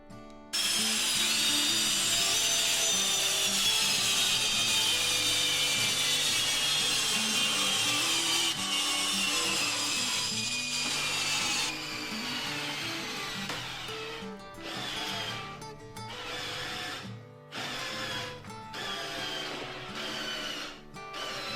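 A cordless drill-driver, Parkside PSBSA 20 Li or Ryobi R18PDBL, whines steadily as it drives an 8×120 wood screw into wood, the motor pitch gradually dropping, then stuttering in short bursts near the end.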